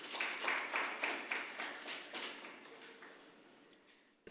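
Guests at a stock exchange listing ceremony clap in a quick rhythmic patter of many hands that swells early, then gradually thins and fades out.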